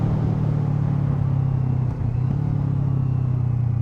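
Steady low rumbling drone of a Kawasaki Z650 motorcycle fitted with an Akrapovic exhaust, riding on a road, loud and continuous with a brief dip near the middle and no voices.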